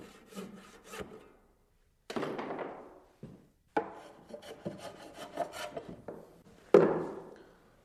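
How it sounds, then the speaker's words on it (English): Hand planing and fitting of a wooden stair nosing during staircase building: a series of close rasping, rubbing wood strokes in bursts, separated by short pauses, with occasional thunks as the piece is tried in place. "This is some of that planing and fitting I was talking about."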